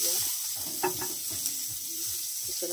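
Chopped onions sizzle in hot oil in a wok along with five-spice seeds, a steady frying hiss with scraping stirs and soft clatter, close up and without speech.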